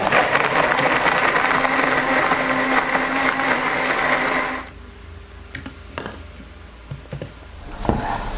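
A blender crushing ice for an oat milk frappuccino whirs loudly and grindingly for several seconds, then cuts off, leaving quiet room noise with a few small clicks and knocks.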